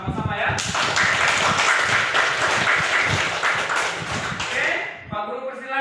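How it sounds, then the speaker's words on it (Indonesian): Applause in a classroom, a dense burst of many hands clapping for about five seconds before fading, with voices around it. "sebelum tampil kita kasih aplaus dulu ya"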